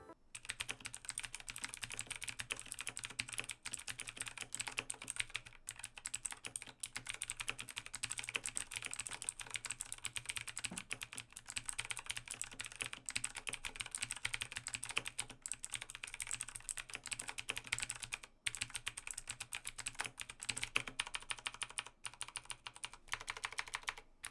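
Rapid, continuous typing on a 2019 Razer BlackWidow mechanical keyboard, crisp clicky keystrokes close up at a quick steady pace, with no voices.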